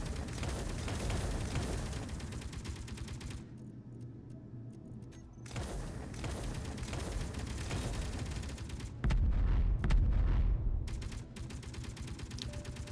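Turrets in Space Engineers fire in long rapid bursts, dense mechanical rattling broken by short pauses, one louder burst near the end, with no one talking over it.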